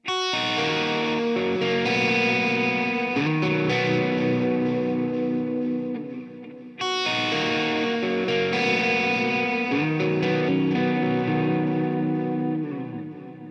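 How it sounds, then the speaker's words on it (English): Electric guitar chords ring out through a warbling modulated delay pedal based on the Boss DD-7, repeats smearing and trailing behind each phrase; the riff plays twice, loud and alone. "I have a really nice mod delay, which is kind of based on the DD7"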